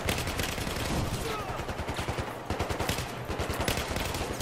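Rapid automatic rifle fire from an M416 in the Battlefield 4 campaign, loud and close, with sustained bursts of evenly spaced shots running nearly the whole time over a dense battle backdrop.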